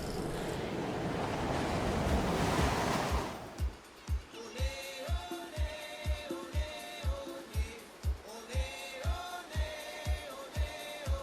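Ocean surf washes onto a beach in Trinidad as a broad, steady roar for a few seconds, then gives way to music with a regular thumping beat.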